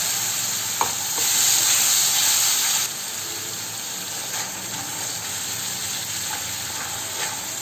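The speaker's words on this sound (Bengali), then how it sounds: "অল্প অল্প জল দিয়ে আমি বেশ কিছুক্ষণ ধরে খুব ভালোভাবে মশলাটা কষে নিচ্ছি" Spice paste for pomfret curry sizzles and fries in a pan with a little water added, a close crackling hiss with occasional stirring scrapes, louder at first and then settling to a steadier sizzle.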